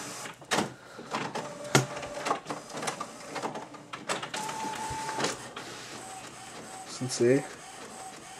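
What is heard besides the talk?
printer printing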